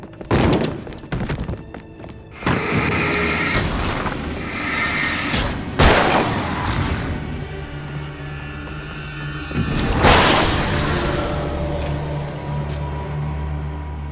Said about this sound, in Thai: ระเบิดแฟลช